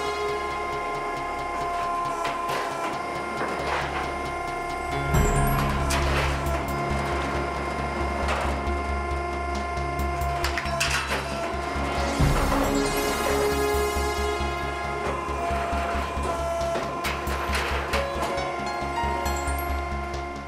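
The notching station of an automatic air duct production line runs on coiled sheet metal, a steady mechanical hum and whir broken by repeated heavy thumps and clanks of the notching and shearing tools at regular intervals.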